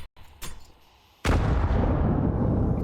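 A grenade bursts in a Counter-Strike match on the Anubis map: after a couple of faint pops, a sudden loud blast erupts and rolls on in a dense, booming roar that fades slowly.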